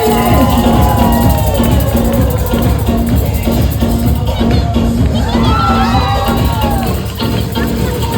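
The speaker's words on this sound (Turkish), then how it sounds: "alkışlarla yürüyün." Guests at an engagement party clap and cheer as a loud, dense crowd noise that runs steadily throughout, with shouts and music-like tones mixed in.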